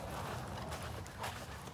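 Horse hooves clip-clop steadily at a walk during a riding lesson in an arena, a close, continuous muffled rhythm with no talk over it.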